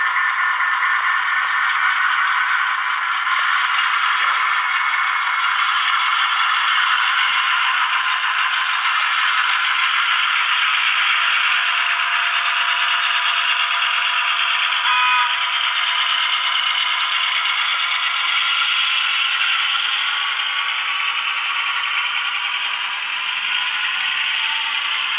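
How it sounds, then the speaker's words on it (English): Steady whirring hum and light rattling from a model train locomotive running on an NCE Powercab DCC starter set, close by and continuous throughout, with no talking. "As you can see, the loco moves off nicely."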